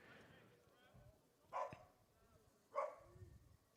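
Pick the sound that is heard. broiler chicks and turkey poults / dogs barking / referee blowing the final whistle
dogs barking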